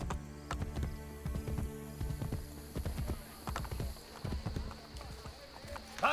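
Horse hooves clip-clop in a steady, fairly close rhythm in the Assassin's Creed Brotherhood video game, with a low game soundscape underneath and someone speaking over the hoofbeats.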